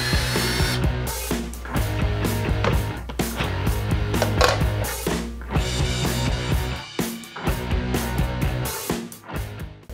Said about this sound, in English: Now that the fidget spinner is glued in place and I've drilled a hole through the top